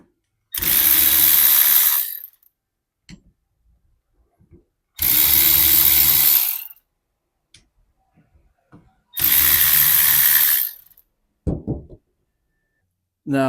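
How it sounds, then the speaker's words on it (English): Three loud, close bursts of an impact wrench hammering at the nut on a windshield wiper motor, each lasting about one and a half seconds and separated by quiet pauses with faint clicks. "So it's best to use an impact."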